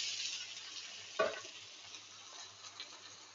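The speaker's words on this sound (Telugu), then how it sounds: "ఉడకబెట్టుకున్న మునగాకు వేసేస్తున్నానండి" Boiled drumstick leaves fry quietly in oil with garlic, coriander and mint, a soft steady sizzle broken by one brief clatter of stirring.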